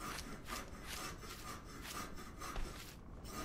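Wooden planks being sawn in the video game Anvil Empires: steady rhythmic back-and-forth saw strokes on wood, roughly two or three per second, close and fairly loud, with no talking.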